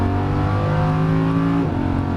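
A Lamborghini Huracan LP610-4 accelerates hard on a race track, its engine note loud and close, climbing steadily in pitch before a brief dip as it shifts and pulls on.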